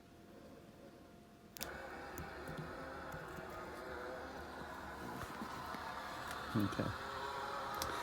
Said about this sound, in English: So the awning's rolling up.